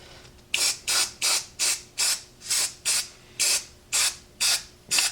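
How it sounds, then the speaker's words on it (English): Never Wet liquid repellent base coat is sprayed onto a padlock in about ten regular aerosol hisses, each roughly half a second long and evenly spaced, close and loud with no talk. "I'm going to start applying the Never Wet product first"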